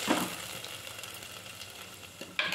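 Masala spices frying in a hot pan for a horse gram bassaru, giving a steady close hiss and crackle with a couple of louder scrapes at the start and end.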